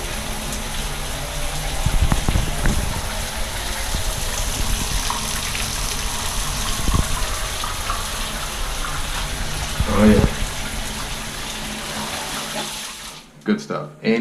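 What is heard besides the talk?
handheld mini shower spraying water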